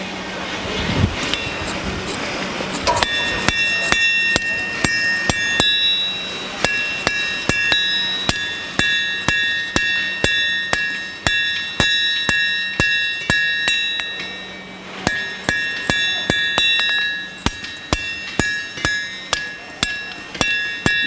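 Heavy sledgehammer blows strike hot iron at a forge in a steady, repeated rhythm, loud and close, each strike leaving a bright clanging ring.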